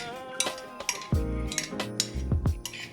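A spoon clinks and scrapes against a dish while seasoned vegetables are tossed with salt, giving a handful of close, sharp metallic taps and clatters in an uneven rhythm.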